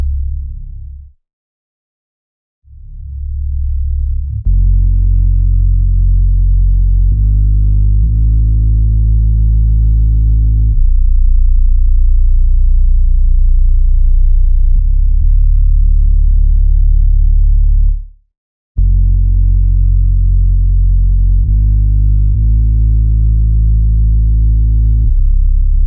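Two layered bass one-shot samples play an uplifting melody together, deep sustained notes shifting pitch in long held steps, loud and up front, with one short gap near the start and another before the end.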